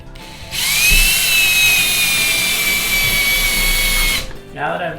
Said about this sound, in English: if you listen carefully as you screw this in, you'll actually hear the plug pop